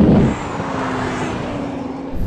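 A BMW M440i and a Toyota Supra launch in a drag race: a strained engine note holds steady under road and wind roar, heard from inside, then rises again at the end.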